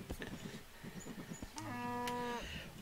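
A cartoonish cow moos in the golf video game What The Golf among a flock of sheep, preceded by quick clattering game effects and a short bleat-like tone, all fairly close and clean.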